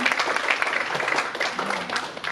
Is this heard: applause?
yes